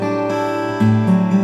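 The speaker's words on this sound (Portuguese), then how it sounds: "Vou botar um pouquinho de chorus." Close acoustic guitar, a Transacoustic LS-TA, rings out sustained chords shimmering with a light chorus effect, a fresh strum landing partway through, with no talking over it.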